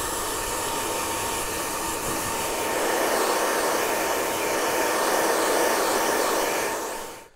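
A hair dryer blasts steadily at close range as a barber blow-dries a client's hair after a haircut, a continuous loud roar that holds level for several seconds before cutting off at the end.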